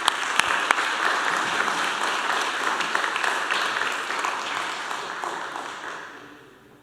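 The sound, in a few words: applause for students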